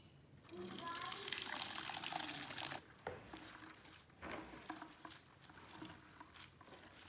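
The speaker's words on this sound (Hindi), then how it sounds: "इसको 1-2 मरतबा मैंने इसको पानी से निकाल के साफ़ करना है" Wheat grains being rinsed in water in a sieve over a bucket while making nishasta: a loud close sloshing and pouring that runs for a few seconds, then gives way to softer intermittent splashes and handling noise.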